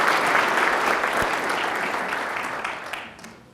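Audience applause welcomes Mayor David Kaptain at a State of the City address, a dense burst of clapping that holds steady, then thins and fades over the final second.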